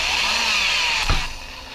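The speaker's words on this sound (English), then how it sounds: "It doesn't take a whole lot to drill these." A power drill whines loudly at a steady pitch while drilling on a 1981 Dodge D150 pickup, then a thud, and the motor dies down near the end.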